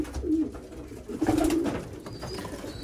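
Racing pigeons in a loft coo in soft, throaty bursts, one near the start and a longer rolling coo midway, close by over a low background murmur of the loft, with no one speaking.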